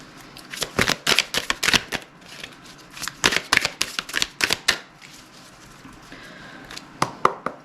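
Tarot cards are shuffled by hand close up, with quick crisp riffling bursts in uneven clusters and short pauses between them, with no talking.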